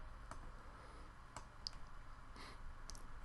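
Sharp mouse clicks on a computer during chess site account setup, a few isolated clicks spaced out over a quiet background hum, close and fairly faint.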